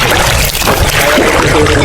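River water rushes steadily while wading across the Cagayan River, a loud, close, continuous broadband wash of flowing water that fills the whole moment with no pause.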